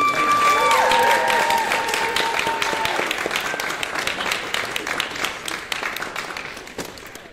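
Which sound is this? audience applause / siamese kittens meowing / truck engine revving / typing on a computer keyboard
audience applause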